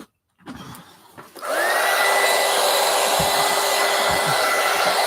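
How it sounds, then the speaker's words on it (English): A hair dryer blows on a mixed media collage, switching on after a brief quiet rustle and then roaring loud and steady at close range for several seconds. "Now let's go ahead and dry this."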